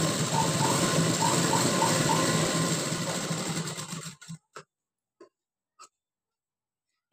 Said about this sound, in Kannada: ಕಟ್ ಮಾಡಿಕೊಂಡು ನೋಡಿ ಈ ಥರ ಫೋಲ್ಡ್ ಮಾಡಿಕೊಂಡು ಸ್ಟಿಚ್ ಮಾಡ್ಕೊಳ್ಳಿ.